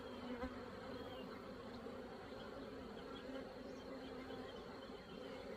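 Honey bees drone steadily at a beehive in a bee yard during May hive checks, a continuous, even buzz of many insects, fairly faint and without voices.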